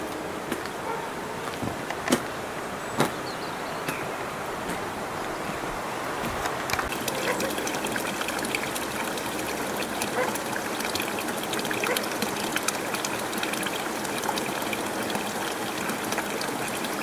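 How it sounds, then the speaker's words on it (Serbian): Steady rushing murmur of the Senokoska river flowing through its canyon near Dimitrovgrad on the way to Skok waterfall, a continuous broadband gush of water close by with occasional small knocks, no talking. "Ovde je žubor Senokoske reke jači"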